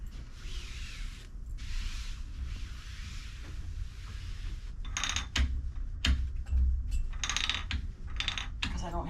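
Hand crank turned on a long arm quilting machine, a little stiff to turn: soft close ratcheting clicks and gear rattles, sparse at first then a burst of quick mechanical ticks in the second half.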